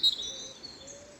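A robin sings outdoors during a March morning chorus, mimicking a great tit's call with thin, high whistled notes that carry faintly over soft background ambience.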